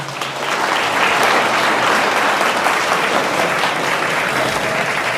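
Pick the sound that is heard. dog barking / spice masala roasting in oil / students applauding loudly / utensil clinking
students applauding loudly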